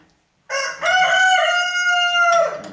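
A single chicken lets out one long, loud, strained crow-like call up close, a brief squawk leading into a sustained wavering cry lasting about two seconds, with no other sounds.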